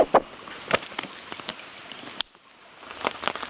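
Rain falling outdoors onto a tarp in a woodland foraging spot, a steady broadband patter with sharper drops and pops, fairly close, briefly dropping away near the middle before returning.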